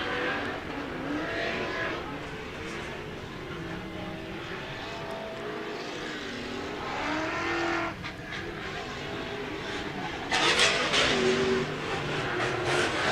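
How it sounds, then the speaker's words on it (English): Loud LS-based V8 engines of Pro Lite short course race trucks roar and rev continuously at Glen Helen Raceway, swelling as trucks pass close by, with a sharper burst of revving near the end. "Love that sound when they come up and over that LS platform motors that they run."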